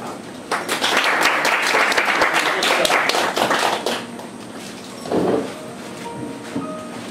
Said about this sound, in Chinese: 我们掌声欢迎他